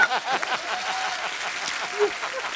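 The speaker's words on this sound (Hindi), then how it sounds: "जोरदार तालियां" Studio audience applause on a Hindi comedy show, a dense steady patter of many hands clapping at close range that carries through the whole stretch.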